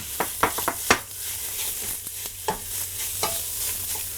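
Italian sausage meat with its casing removed frying in a pan, a steady sizzle broken by sharp scraping and stirring clatters at an irregular rhythm, close and fairly loud, with no talking.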